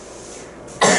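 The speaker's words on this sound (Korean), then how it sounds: "그 기침이 좀 많이 나오더라고" A single short, harsh cough from a teacher whose throat is worn from a long day of talking, close and loud, lasting under a second after a quiet room.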